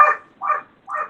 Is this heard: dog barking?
yes